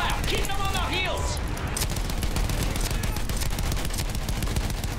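Battlefield 1 game gunfire rattles in dense bursts and rapid volleys, loud and close, with a voice speaking over the shooting in the first couple of seconds.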